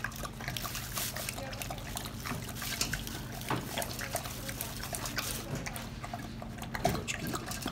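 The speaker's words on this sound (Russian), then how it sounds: "Хлебает воды, прям он кушать не хочет, а воды." A dog laps water from a bowl indoors, producing a soft, continuous trickling and wet slurping at moderate distance for several seconds with no talk.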